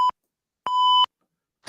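Electronic sensor beeps: a short tone, then a longer sustained one lasting about 0.4 seconds, pure and steady, with silence between and no talking.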